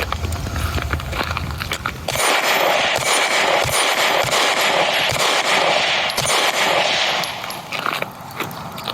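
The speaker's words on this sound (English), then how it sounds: "shooting the Ruger Max-9" Shots from a Ruger Max-9 pistol ring out after a quieter opening: a run of sharp, loud reports spaced irregularly over several seconds, with a noisy background between them.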